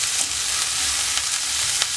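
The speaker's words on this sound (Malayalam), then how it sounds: "ഒരു കാൽ ടീസ്പൂൺ മഞ്ഞൾപ്പൊടിയും കൂടെ ചേർത്ത് കൊടുത്തിട്ട് നന്നായിട്ട് വഴറ്റിയെടുക്കാം" Potato roast ingredients with salt and turmeric sauté in a pan, giving a close, continuous sizzle with light stirring scrapes and no talk.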